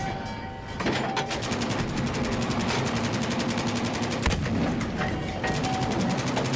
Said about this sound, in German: da gibt es zwei Schüsse mit der Mass 44, ich bin instant down